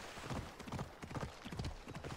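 Horse hooves clip-clop steadily at a gallop in Assassin's Creed Odyssey, with a quick, even rhythm of close, fairly loud hoofbeats and no talk.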